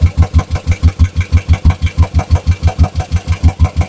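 A car engine with an aftermarket exhaust idles loudly, thumping in a fast, steady pulse with a rough, throaty rumble and no talking; the engine was damaged by fake oil.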